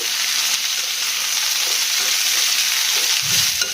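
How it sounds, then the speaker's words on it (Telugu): Onions and broad beans sizzle steadily in hot oil while being stirred, a dense, loud, continuous frying hiss with faint scraping underneath. "ఒకసారి ఈ ఉల్లిపాయలు చిక్కుడుకాయలు మొత్తం కలుపుకోవాలి."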